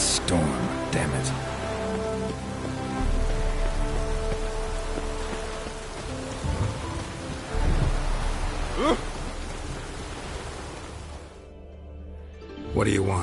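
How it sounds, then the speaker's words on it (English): Rain falls steadily in a stormy scene in The Witcher 3, a constant dense hiss with faint low rumbles of thunder and a few voices talking over it before it cuts to near silence at the end. "A storm, damn it."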